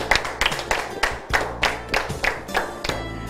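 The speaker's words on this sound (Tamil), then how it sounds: "அவர் கைதட்டுறது" A single audience member claps steadily, about eleven sharp, close hand claps in an even rhythm, with no talking.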